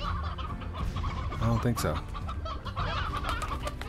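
Hens cluck in a farm-animal chorus in the game Slime Rancher, dense and continuous, with someone speaking briefly over them.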